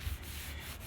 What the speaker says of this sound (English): continue the sanding